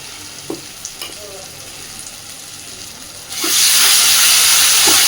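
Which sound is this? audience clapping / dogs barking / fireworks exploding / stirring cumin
stirring cumin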